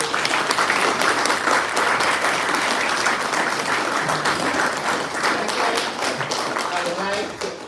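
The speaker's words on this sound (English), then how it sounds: "a round of applause for two wonderful" An audience at an academic dialogue on decolonization and reparations claps together in a sustained round of applause. The dense, fairly loud patter holds steady, thins slightly toward the end, and faint voices rise beneath it.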